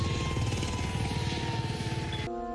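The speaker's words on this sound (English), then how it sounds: "We got a chopper coming in." A support helicopter in the video game Call of Duty: Modern Warfare gives a steady rotor thump and engine drone, loud and continuous, before cutting off abruptly near the end.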